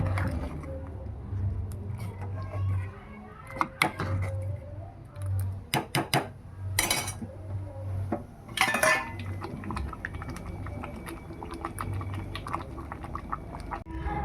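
Khichuri with egg being mixed in a pot with a utensil: scattered clinks and scrapes of metal on the pot over a low, steady hum, with a few sharper knocks in the middle.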